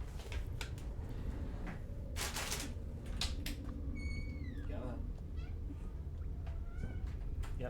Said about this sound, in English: I hear my cat trying to get in